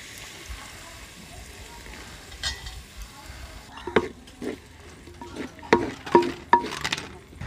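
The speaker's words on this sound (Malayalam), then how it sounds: "അപ്പോഴതിലോട്ടെ നമുക്ക് ചെറിയൊരു ഗ്ലാസ് വെള്ളം ഒഴിച്ചു കൊടുക്കാവേ" Water poured from a small glass into mussel masala sizzling in a pan sets off a sudden burst of hissing and crackling, rising from steady low frying to several sharp bubbling spikes near the end.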